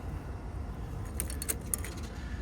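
A few light metallic jingles from a set of Kawasaki Ninja ZX-14R motorcycle keys being handled, brief and close, over a quiet room hum.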